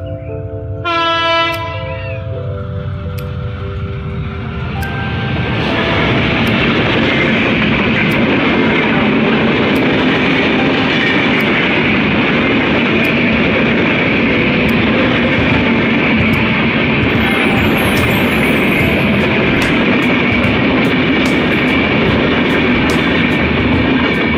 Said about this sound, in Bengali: এই যে আমার পিছে ট্রেন আইতাছে, দেখেন ভালো করে লক্ষ্য করেন।